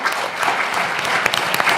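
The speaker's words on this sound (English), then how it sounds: "So I'd like to have a round of applause for our" Audience applause for a panel at the closing of the European Carbon Farming Summit 2025: dense, steady clapping from a room full of people, loud and close, continuing throughout.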